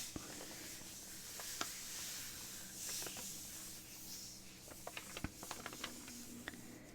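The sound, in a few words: rain outside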